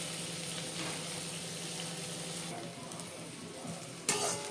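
Onions sauté in oil for beetroot curry, giving a soft continuous sizzle close by with a few light stirring scrapes and a sharp clink near the end.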